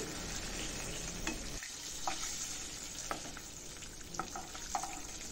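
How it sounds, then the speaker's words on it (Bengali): Katla fish frying in oil in a wok, a soft, steady sizzle with a few light clinks of a spatula as pieces are turned and lifted, heard alone. "মাছটা কিন্তু আমি উল্টে দিয়েছি হালকা হয়ে গেছে ভাজা এখন আমি তুলে নিচ্ছি"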